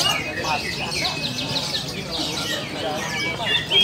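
Oriental magpie-robins (kacer) sing in the kacer class of an Indonesian songbird contest, with bright trilling phrases and whistles repeating over a busy outdoor crowd murmur and talk.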